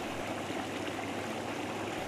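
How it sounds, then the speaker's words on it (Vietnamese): The Giai Oan stream at Yen Tu flows in a steady, continuous rush of water, a broad even wash with no pauses or voices. "Dòng suối Giải Oan"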